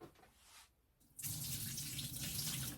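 Water gushes loudly and steadily from a tap during a Stanley tumbler mug leak test, starting after a brief quieter moment and continuing as a strong, constant rushing stream.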